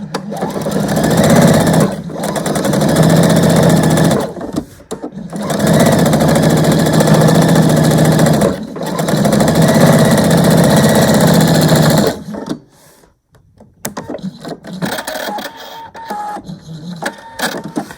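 A sewing machine stitches through quilt batting and a fabric row with no backing, running loud and close in long steady bursts of about four seconds broken by brief pauses, then stopping near the end, leaving quieter handling noises.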